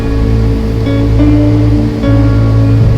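Water pours steadily out of a tank as it is drained, a continuous loud rushing wash with a low rumbling undertone, no voices.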